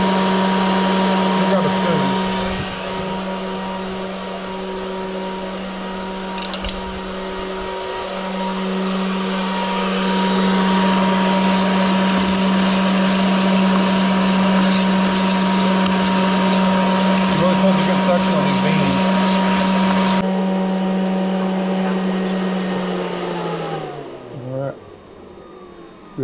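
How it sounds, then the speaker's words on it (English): An Allio Bullet R2 Pro coffee roaster cools freshly roasted beans with a loud, steady fan whir and a constant motor hum; near the end the motor cuts out and the sound winds down to quiet. "Cooling down the roaster."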